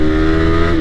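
A Yamaha R15 v3 Indonesian-spec motorcycle revs steadily under the throttle, its engine note loud and close, with a strong tone held through the brief moment.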